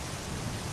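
Steady heavy rain on a rainy night, a dense unbroken hiss with low rumbling thunder underneath, close and constant with no voices.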